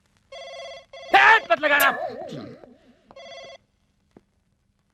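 A telephone rings in short repeated bursts, broken by a loud voice speaking and then a brief whistled trill before the ringing resumes.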